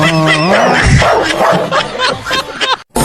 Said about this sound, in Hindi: क्या डॉगी, मुझे मत काटना अच्छा?